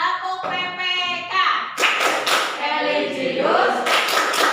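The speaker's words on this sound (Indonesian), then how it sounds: "kita tepuk PPK dulu ya" Students stand and do a rhythmic Tepuk PPK clapping chant in a classroom, sharp clap patterns interleaved with their chanted voices, the claps growing denser in the second half.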